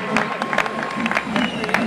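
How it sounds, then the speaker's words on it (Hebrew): An audience claps at the 2010 Shomron basketball league awards ceremony, a steady, moderately loud patter of many hands with crowd murmur and voices mixed in throughout. "אתם כן יכולים לתת כפיים."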